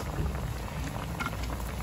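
A pot of water with catfish pieces rolls at a boil, giving a continuous bubbling, churning wash at steady loudness, heard close and alone for a brief moment.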